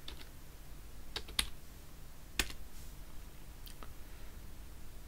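A few sparse clicks of keys on a computer keyboard while typing a short folder name, faint and close, with two slightly sharper taps standing out against a quiet room.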